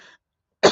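A single sharp, close cough breaks a brief silence after a faint trailing sound.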